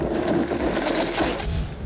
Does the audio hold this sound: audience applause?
no